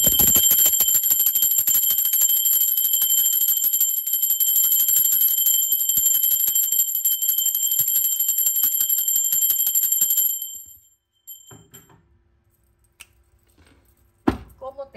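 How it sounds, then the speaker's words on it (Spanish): A bell rung during a tarot reading, a sustained bright ringing tone that holds steadily for about ten seconds and then fades out, followed by a few faint knocks. "Ahora sí, va campana, por favor"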